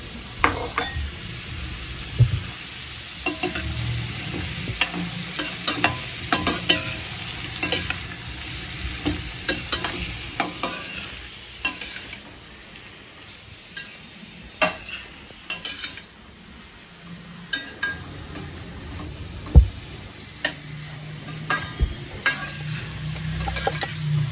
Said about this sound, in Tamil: வெங்காயமும் பச்சை மிளகாயும் எண்ணெயில் போட்டு வதக்கந்து